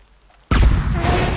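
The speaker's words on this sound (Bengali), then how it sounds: "ব্লাস্ট হবে তো এখনই" In Red Dead Redemption 2, dynamite blows open a door: after near silence, a single sudden loud blast hits and is followed by a sustained, rumbling roar of debris.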